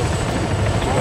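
Military helicopter in a war video game, a steady, continuous rotor and engine drone holding at a constant level under game chatter.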